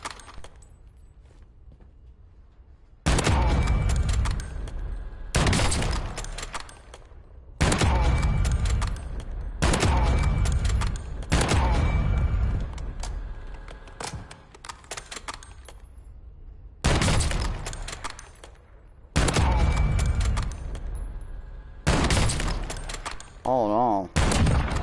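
In Call of Duty: Warzone, loud rapid bursts of automatic gunfire repeat in about seven stretches of a few seconds each, separated by quieter gaps with faint clinks and a speaking voice.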